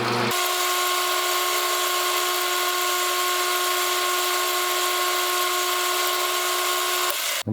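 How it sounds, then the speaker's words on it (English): A lathe-mounted center drill bores a small center hole into the end of a motorcycle shift lever part held in the chuck, giving a steady, loud high-pitched whine that runs almost the whole time before cutting off abruptly. "I'm going to drill a hole, small hole in the end there."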